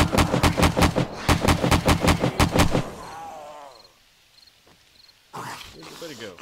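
Rapid, evenly spaced gunfire from 7 Days to Die, about ten loud shots in quick succession, gives way to a quieter stretch where a voice speaks.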